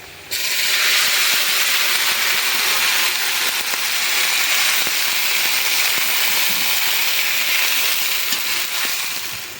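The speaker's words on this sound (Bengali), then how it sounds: "একটু পানি দিয়ে নিই।" A loud, steady sizzling hiss bursts in as water hits a hot pan, crackling continuously for several seconds before easing slightly at the end.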